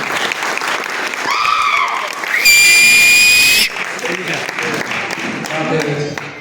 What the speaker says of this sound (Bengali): সবাই আমরা তাদের জন্য জোরে হাততালি দেবো আরেকবার।